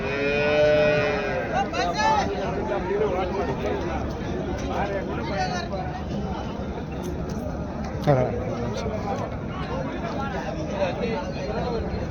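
Holstein Friesian cattle low and moo at a busy cattle market in Erode, with a loud drawn-out call at the start and further calls over constant crowd chatter and background noise.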